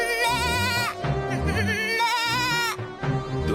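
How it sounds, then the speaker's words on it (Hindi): A goat bleats repeatedly in wavering, close, loud cries on a cold snowy village night, the calls running almost continuously with brief gaps between them. "तुम चाहे जितनी भी मिमिया लो,"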